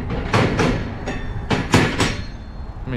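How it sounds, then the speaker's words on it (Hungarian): Touring bicycles rattle across a series of small bridges on an Alpine cycling route, giving loud, close, rhythmic clattering bursts spaced about every half second, much like a train's clickety-clack. "Mint a vonat, úgy jövünk át itt ezeken a kis hidakon."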